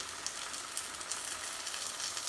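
Breaded spice-crumb chicken sizzles steadily in a frying pan near the end of cooking, a dense, continuous crackle with small pops and no pauses or talk.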